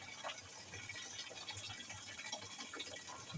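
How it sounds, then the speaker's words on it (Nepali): Water runs steadily from a household tap beside a cooking fire, a faint continuous splashing gush with no voices. "यही पानीको धारा छ"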